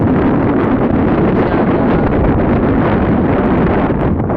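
Strong wind at sea buffets the microphone in a loud, unbroken roar, close and heavy, with no voices heard.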